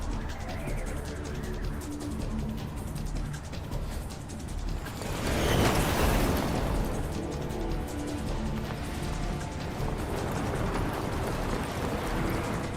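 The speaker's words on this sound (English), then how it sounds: "Ah, flashbang." A flashbang grenade goes off in Metal Gear Solid 3 Subsistence, a dense roaring burst swelling midway over a constant loud mechanical rattle and rumble, with no talking.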